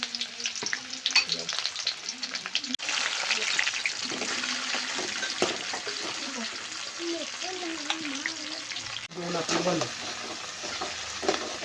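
Onion frying in oil with mustard seeds gives a continuous close sizzle with crackling pops and bursts of stirring scrapes. The sizzle is briefly interrupted twice, and faint voices sound in the background.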